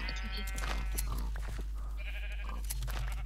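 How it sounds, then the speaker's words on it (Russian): Sheep bleating in Minecraft, a couple of nasal, wavering bleats close by over low game background, with faint crunching between them. "О, я еще овец нашел"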